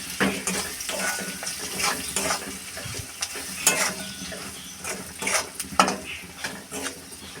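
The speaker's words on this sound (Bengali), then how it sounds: "ভালো করে কষিয়ে নেব।" Turmeric, chilli powder, salt and green chillies stir-fried with onion in a pan for a prawn and kochur loti dish, a continuous sizzle with irregular scraping and stirring strokes, close and moderately loud.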